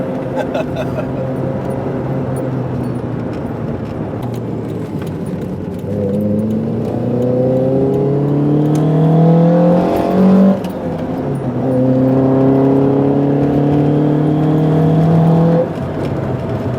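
A Toyota 4AGE 20V engine in an AW11 MR2 revs and climbs steadily in pitch as the turbo comes on boost, easing off briefly, then building again, heard from inside with a person talking over it.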